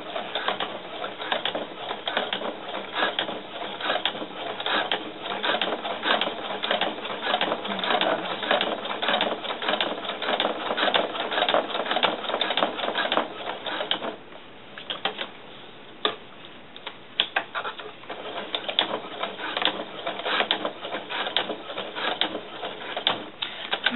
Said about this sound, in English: I'm actually helping it a little bit by pushing the fabric through the walking foot.